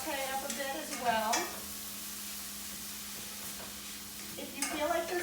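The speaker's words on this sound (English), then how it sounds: "go ahead and do our hearts of palm and our mushroom. Let that saute up a bit as well" Hearts of palm and mushroom sauté in a pan with a low steady sizzle, and stirring scrapes at the start and end, close by; a voice murmurs faintly at the edges.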